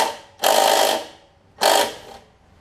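Two loud, close bursts of ratchet clicking come from a ratchet wrench removing 3/8 inch bolts from a Briggs engine on a Craftsman push mower, with a short pause between them.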